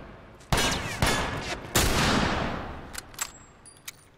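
Vintorez suppressed sniper rifle shots in The Last of Us, several sharp cracks a half-second apart followed by a louder report and trailing echo, then a few lighter clicks and scattered effects.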